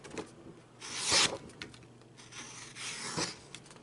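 A Kershaw Thistle folding knife shaving material into ribbons, heard as quiet close scraping and rasping strokes, a louder swipe near the start and another near the end, no talking.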